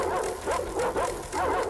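Dogs in the video game Metro Exodus bark and yip in short repeated bursts, a few sharp calls spaced across the moment over a steady background hum.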